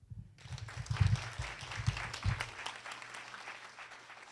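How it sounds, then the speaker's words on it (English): Sustained audience applause at a live poetry recitation event, steady clapping from a crowd that swells early and then tapers off gradually, with no talking over it. "Another applause for Maya Pop."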